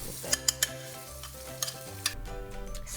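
Salted eggs sizzling in a pan with red chilli for salted egg shrimp, a steady fry hiss broken by several sharp spatula clicks against the pan, close up.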